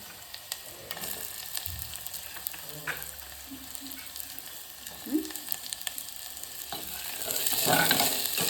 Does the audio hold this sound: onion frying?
yes